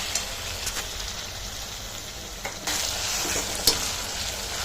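Chicken thokku with tomatoes sautés in oil in a pan, a steady close sizzle with a few faint scraping stirs, no voices.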